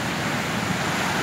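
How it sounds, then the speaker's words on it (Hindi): Fast-flowing river water rushes steadily near the microphone as a broad, continuous wash of noise with no pauses. "पानी का जो बहाव है कितना तेज है"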